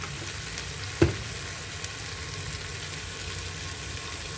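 Ground coriander powder and red chilli hit hot oil in a pan while khichdi is being cooked, giving a steady, faint sizzle with a single brief clatter of spices landing early on; no talking.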